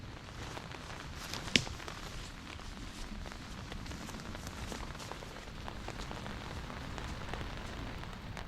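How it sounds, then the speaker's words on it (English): Rain starting again on a mountainside during a tropical storm, a steady soft patter on surfaces with one sharp tap near the start. "Looks like the rain is starting up again."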